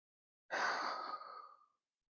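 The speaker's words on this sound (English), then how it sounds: "Deep breaths in and out." A single deep breath, drawn in and let out in one long, close, soft airy rush lasting just over a second, during a gentle stretch focused on the knee and hips, with no talking over it.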